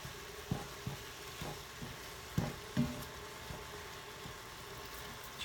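Ground beef browning on high heat in a pan on an electric stove, a faint steady sizzle with a few soft clicks and spatula scrapes, heard close with no voices.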